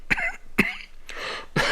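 Coughing from a man with a lingering cough, four harsh bursts in quick succession, the first two sharp and short, the last two broader and rougher, close and loud with no talking.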